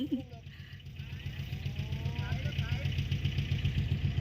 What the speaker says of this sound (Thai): รถไถเลย